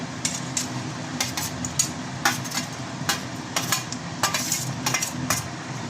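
Lentil cakes (dhoka) dropped one at a time into simmering curry in a pan, giving soft clinks and light splashes at an irregular pace over a steady low bubbling hiss.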